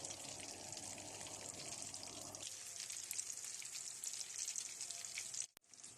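Chapli kabab frying in a pan of oil, a continuous crackling sizzle with popping spatters, soft and close, ending with a sharp clack and a short drop in sound.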